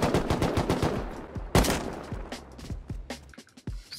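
Semi-automatic AK fire in the survival game Rust: a fast series of sharp shots in the first second and a half, one loud blast, then scattered single shots tailing off, with no talk.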